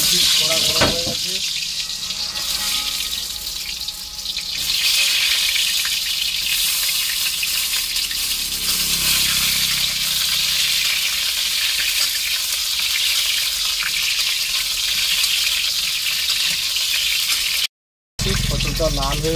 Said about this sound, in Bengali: স্বাদ মতো লবণ দিয়ে দিচ্ছি, দিয়ে একটু ভালো করে জেকে ভেজে নিচ্ছি